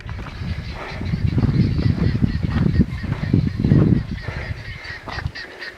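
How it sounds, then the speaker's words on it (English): Geese honk repeatedly near water outdoors, a cluster of loud, overlapping calls building in the middle and then thinning out, with no talking. "Some birds out there found some water."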